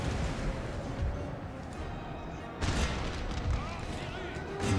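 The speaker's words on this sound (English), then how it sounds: "Shoot at that general." Scattered musket volleys crackle across a Napoleonic battlefield in Napoleon: Total War, with a sharper burst of fire about midway and rumbling background noise, while a voice talks faintly underneath.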